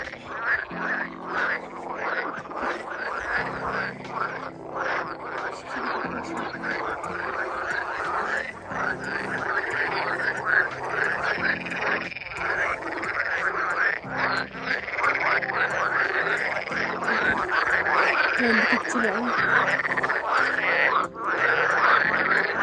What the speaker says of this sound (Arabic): on vient de voir des grenouilles. C'est bizarre le bruit.